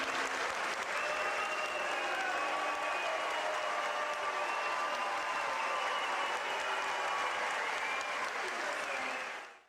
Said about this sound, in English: we have both cheering and booing at the mention of Ted Kennedy's name